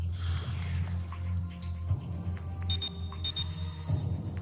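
A high, thin electronic air alarm beeps in short repeated pulses, a few evenly spaced tones sitting over a low, steady hum.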